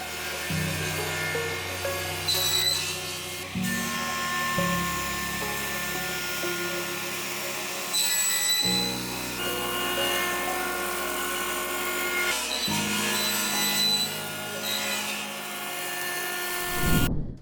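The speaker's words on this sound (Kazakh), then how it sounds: "Бұл ағаш өңдеу цехының атмосферасы." Power tools whine and buzz continuously in a theatre's woodworking workshop where scenery windows are being made, with the pitch shifting every few seconds as cuts start and stop, loud and close, and no voices.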